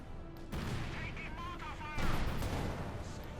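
Incendiary artillery pounds the battlefield in Company of Heroes 2, with explosions and bursts of fire rumbling steadily and a heavier blast near the end, under a commentator's voice.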